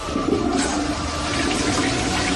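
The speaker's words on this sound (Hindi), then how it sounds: "बाथरूम में फ्लश करके" A toilet flushes in a bathroom, a steady rush of water pouring and swirling throughout, fairly loud and close, with no voices.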